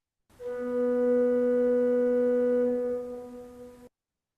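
A pipe organ flue pipe with a labium sounds a steady, flute-like tone, one sustained pure pitch with soft harmonics held for about three and a half seconds and then cut off, alone with no talking.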